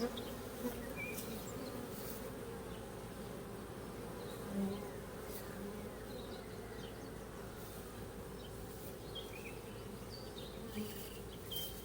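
A swarm of honey bees makes a dense, steady buzzing drone close by, with individual bees whining past now and then over the constant hum.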